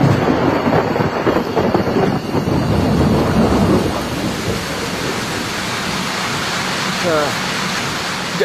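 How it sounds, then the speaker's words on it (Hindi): Heavy rain pours down steadily while deep thunder rumbles and rolls through, loud and close, fading into a continuous wash of rainfall. "बारिश हो रही है और बिजली चमक रही है, बादल गरज रहे हैं"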